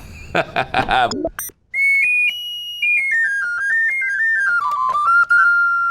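A melodica plays a descending line of high sustained notes in its upper register, reedy in tone, after a brief burst of quick busy tones at the start.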